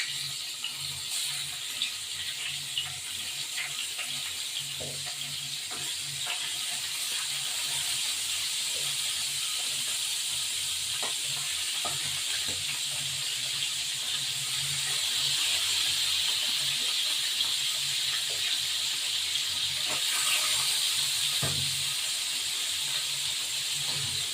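Tengra fish frying in hot oil gives a steady, close hiss that runs unbroken for the whole stretch, slightly louder toward the end, with no talking.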